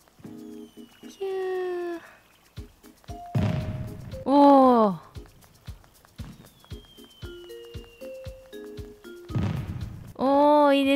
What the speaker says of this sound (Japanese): あ、すごいリアルな花火ですね。